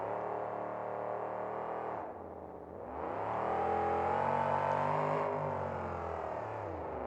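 A monster truck engine at a 2003 New Orleans monster truck show, loud and close, holding a steady roar before dipping briefly and then revving hard again into a sustained high whine.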